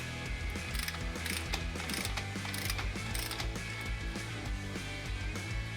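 Ratchet wrench loosening the rear wheel axle nut on a Yamaha YZ250F-style dirt bike, a fast continuous run of close, crisp pawl clicks with no voices.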